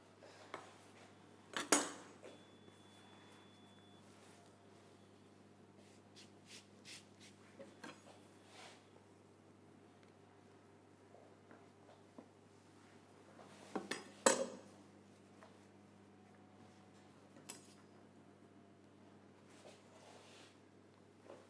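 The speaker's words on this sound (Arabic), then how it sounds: "هلا بدنا نقطع مستطيلات." A knife cuts pastry dough into rectangles and squares, leaving a few sparse, faint scrapes and taps against a tray in a quiet kitchen, with two sharper clinks standing out.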